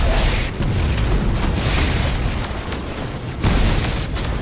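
Grenade blast in the Destiny 2 shooter, heavy booming rumble filling the whole stretch with a fresh burst near the end, loud and close with no talk over it.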